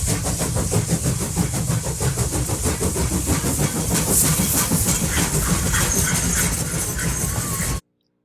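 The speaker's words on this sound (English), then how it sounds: "When the train runs over this track" A train rolls past loudly with a continuous rumble and rhythmic clatter of wheels over the rails, cutting off abruptly at the end.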